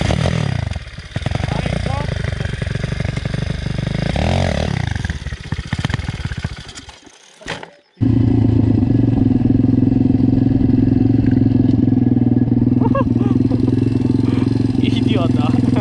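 A motorbike on a forest trail sputters and struggles at first, then catches and settles into a loud, steady idle close by, with people talking over it early on.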